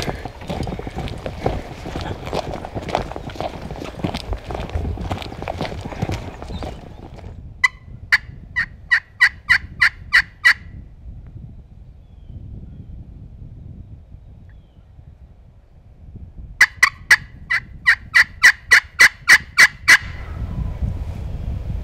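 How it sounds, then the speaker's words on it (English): Two bursts of rapid wild turkey gobbling ring out from a distance on Missouri public land, each a quick rattling series, over rustling and faint background noise. "Gobble right down there."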